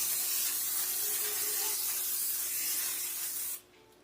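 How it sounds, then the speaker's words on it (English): Cooking spray hisses steadily onto a badly stained baking pan from lasagna for about three and a half seconds, loud and close, then cuts off abruptly. "So I'm just going to spray this."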